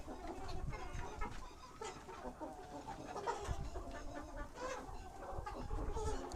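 Desi chickens cluck repeatedly at a moderate distance on a poultry farm, scattered calls over a steady outdoor background with no talking.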